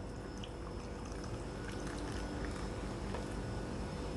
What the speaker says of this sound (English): Now let's pour the soda and let's see what we can deduce.